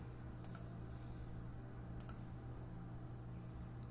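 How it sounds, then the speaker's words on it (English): Two pairs of quick, faint computer mouse clicks come about a second and a half apart while lines are selected in CAD drawing software. A low hum sits under them. "I'm just clicking on those 5 sides"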